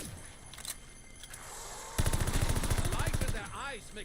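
Gunfire in Call of Duty Vanguard Zombies on the Der Anfang map: a sustained, rapid automatic burst of about a second and a half, preceded by a couple of single shots and followed by ringing mechanical echoes.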